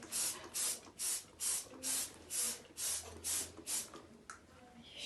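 A spray bottle of cleaner is squeezed in a home washroom, giving about nine quick, even hissing bursts in a steady rhythm. The sound is close and fairly quiet, with no talking.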